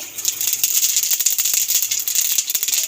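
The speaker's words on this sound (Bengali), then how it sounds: "এবার আলু ভাজার তেলের মধ্যে ফোড়ন দিয়ে দেবো জিরে" Cumin seeds tempering in hot oil left from frying potatoes, a bright close crackle of rapid pops and spits over a steady sizzle, no voices.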